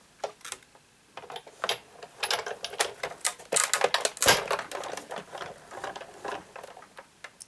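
Card pushed through a die-cutting machine fitted with straight dies, giving a close run of irregular crunching, clicking and rattling bursts that builds toward the middle, with no one talking.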